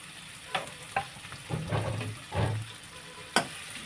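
Onion sautéing in oil in a pan, bursts of sizzling with stirring scrapes and a couple of sharp utensil clinks, close and moderately loud, no talk.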